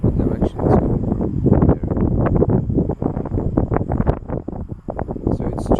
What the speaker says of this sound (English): So it's just little gusts of wind.